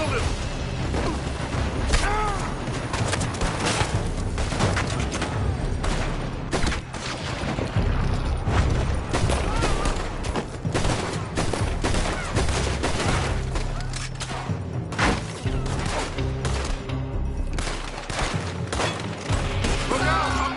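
Red Dead Redemption 2 shootout with enemies firing from a building: dense, rapid gunshots and volleys crackle without a break, mixed with clanks and booms, loud and close.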